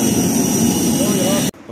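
Inside a small passenger jet airplane, a loud, steady engine roar fills the cabin, then cuts off abruptly near the end.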